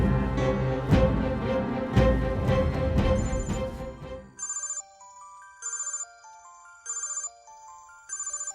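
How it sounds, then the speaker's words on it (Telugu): A phone ringtone chimes in repeated bursts of a bright melodic tune, each about half a second with short gaps, ringing clearly after louder music and noise fade out. "అజీ ఫోన్."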